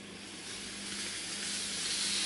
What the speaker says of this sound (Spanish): Sale vapor.